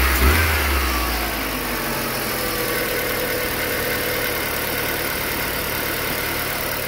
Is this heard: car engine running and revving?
yes